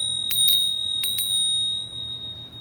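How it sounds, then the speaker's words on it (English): Small bells chime in two pairs of bright, ringing strikes, each leaving a sustained high tone that lingers over a quiet background. "I have my little chiming bells"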